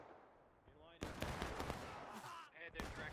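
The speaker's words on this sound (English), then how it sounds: "shot from the west" Rifle and musket fire crackle through a Civil War battle in the War of Rights game on the West Woods map. Dense overlapping shots rattle continuously and loudly, with a brief lull before another burst of volley fire.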